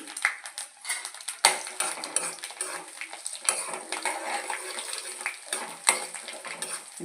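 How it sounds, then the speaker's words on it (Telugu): Ajwain seeds frying in hot oil give off a steady bright sizzle with crackling pops, close by, along with occasional clinks of a utensil against the pan. "ఓమిటేలు వేగుతున్నాయి కదండి"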